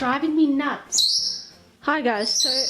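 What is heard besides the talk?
birds chirping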